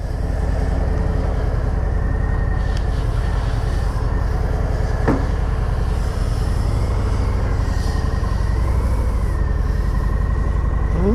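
A 2019 Harley-Davidson FXDR 114 on a test ride: a steady, loud engine drone blended with rushing wind noise fills the whole stretch without a break, and no one speaks.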